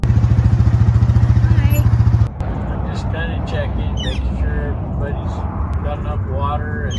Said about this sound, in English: right before the sound of an engine interrupts the silence